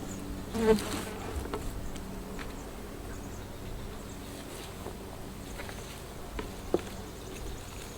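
Dense buzzing of many bees in a honey hive, a steady close hum throughout with a few brief bumps, and no one speaking.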